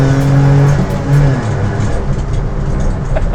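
A Citroen C1 race car engine accelerates on a track, a loud droning buzz that rises in pitch, then changes as the car shifts and the tone settles into a rougher, steadier roar.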